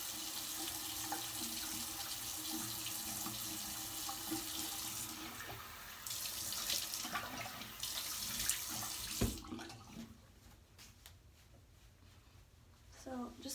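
A bathroom sink tap runs during a quick face wash, a steady hiss of water with splashes, then it cuts off partway through and leaves quieter room sound. A person talks over the running water.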